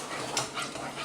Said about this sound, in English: stir my gravy and scoop out 1/4 of a cup into here